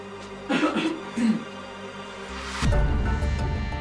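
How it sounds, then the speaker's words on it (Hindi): In a Hindi television drama scene, someone gives two short, deliberate coughs close by, followed by a louder burst of sound and background noise. "उससे बात करने के लिए तुझे खांसने की जरूरत नहीं है।"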